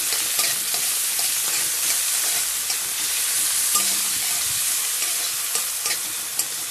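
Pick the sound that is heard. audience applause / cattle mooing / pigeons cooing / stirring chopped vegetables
stirring chopped vegetables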